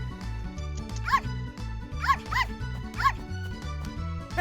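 Cartoon dog yips and barks in short bursts, about four sharp calls spaced roughly a second apart, over steady bouncy children's music at close range.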